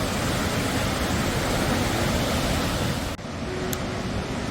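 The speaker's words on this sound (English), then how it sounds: "We're underneath of the falls, the lower falls and the middle falls right here." Lower and middle falls of a waterfall on Mt. Cascade heard from beneath, a loud, dense, unbroken roar of rushing water filling the whole scene, with a brief dip near the end.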